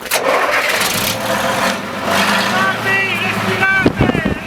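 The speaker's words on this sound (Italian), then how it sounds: "Mario, ci dai l'ultima sgasata?" An old truck engine, restarted after 25 years in storage, cranks and revs roughly, surging and dropping close by, while several people shout and cheer over it.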